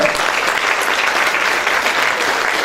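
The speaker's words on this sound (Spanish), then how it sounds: "Un aplauso, por favor, para el doctor." Conference audience applauding a doctor after his talk, steady dense clapping throughout, loud and close with no voices over it.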